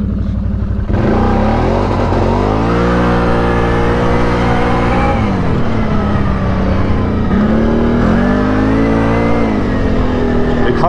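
A Can-Am side-by-side engine revs repeatedly, the loud mid-pitched whine climbing and falling in several surges close by, with no talk.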